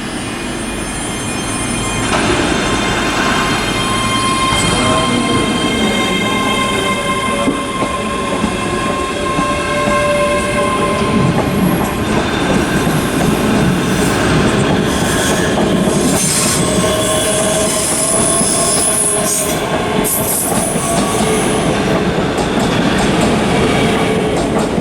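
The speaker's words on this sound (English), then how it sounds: "now departing is going to be the 11:45 ScotRail service to Edinburgh" ScotRail class 385 train departing Glasgow Queen Street for Edinburgh, a continuous loud rumble of wheels and traction with squealing flanges, clicking rail joints and a brief horn, close by in a station.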